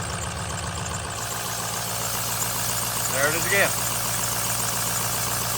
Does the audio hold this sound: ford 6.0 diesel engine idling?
yes